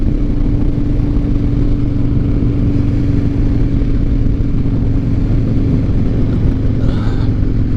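A 2007 Harley Davidson Night Train motorcycle running steadily while being ridden, a loud continuous low engine drone with road and wind rush heard close up throughout.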